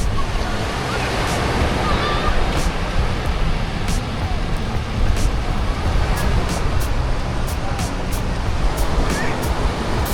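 Sea waves wash onto the shore at low tide, a loud continuous surf roar with wind buffeting the microphone and no breaks.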